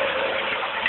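Water pours steadily from a shower or waterfall-like stream in a bathing area, a dense continuous rushing hiss with no pause and no voices.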